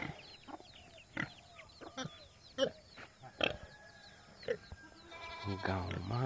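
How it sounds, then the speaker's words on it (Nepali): A goat bleats in a village farmyard amid other livestock sounds, short calls scattered over several seconds, fairly close, with people talking nearby and a louder drawn-out animal cry near the end. "यहाँ बाख्रा छ।"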